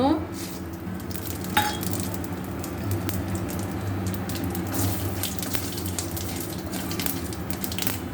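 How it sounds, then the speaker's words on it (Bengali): Dried red chilies crackle and sizzle in hot leftover oil in a pan, a steady frying hiss with occasional clinks of a utensil against the cookware. "এই যে তেলটা রয়ে গেছে তেলটার মধ্যে শুকনো লঙ্কা দিয়ে দেব কাটিয়ে দিয়েছি দুটো শুকনো লঙ্কা দিলাম এখানে ফোড়ন দিয়ে দেব"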